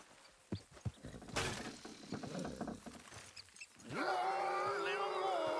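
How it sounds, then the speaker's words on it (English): Horses walk with soft, irregular hoof clops in the Western open-world game Red Dead Redemption 2, faint and mixed with rustling, before a tonal whinny-like sound rises near the end. "Good horses."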